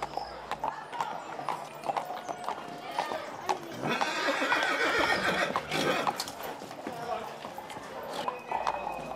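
Decorated horses clip-clop in a long parade through town at the Saint John festival on Menorca, hooves ringing out with a whinny among them, while a voice narrates over the crowd.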